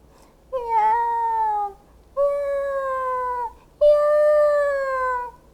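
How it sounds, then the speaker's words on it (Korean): A cat meows three times in long, drawn-out, clear calls close by, each lasting about a second with brief silences between, no talking over it. "야옹이, 고양이 소리였어요."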